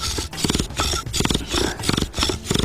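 Rhythmic wooden scraping and grinding from a back-and-forth drilling motion, repeating in steady strokes with brief pauses at each reversal.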